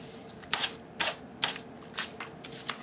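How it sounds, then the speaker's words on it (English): A pencil line being erased on fabric album paper, heard as five or six short, close rubbing strokes at a regular pace with quiet gaps between them. "Now I'm going to erase that line."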